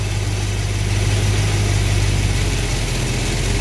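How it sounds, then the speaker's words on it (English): A car engine idles with a steady low hum and then runs a little faster as its distributor is turned to adjust the ignition timing. The sound is close and continuous, with no voices. "you can hear the engine speed up"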